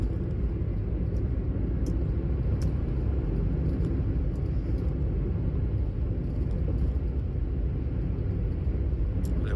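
Steady low rumble of road traffic on a South Delhi road at about 4 a.m., engines droning continuously with no distinct passes and no voices.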